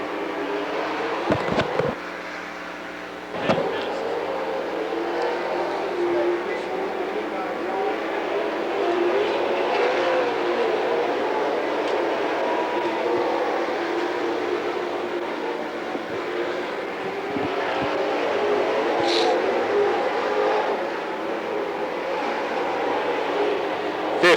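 Race cars circle the Lernerville dirt track in a sustained engine drone, several cars running close together in traffic, the roar rising and falling slightly with occasional sharp knocks.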